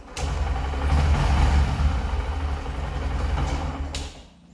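A 2025 Honda SP125 BS7 motorcycle engine runs at a steady low idle, close and continuous, with a light mechanical rattle on top, fading away in the final half second.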